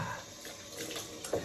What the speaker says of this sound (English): it's time to put some hot water on my face